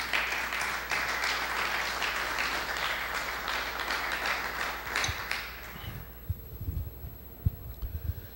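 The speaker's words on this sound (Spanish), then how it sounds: "Gracias por los aplausos" Audience at a religious lecture claps steadily for about six seconds, the applause thinning out and ending in a few scattered claps and soft knocks in a quiet hall.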